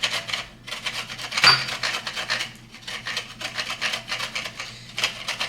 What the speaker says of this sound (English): I'm gonna grate up the ginger